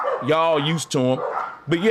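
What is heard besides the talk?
dogs barking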